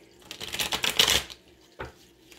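A deck of tarot cards is shuffled by hand, giving a dense papery riffle for about a second, then a second short flutter of cards. It is close and fairly soft, with no talk.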